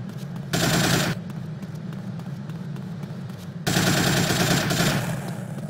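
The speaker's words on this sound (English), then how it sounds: "Sure, it's a gun." Automatic gunfire in GTA: Vice City Stories, two loud sustained bursts of rapid shots separated by a stretch of lower-level game ambience.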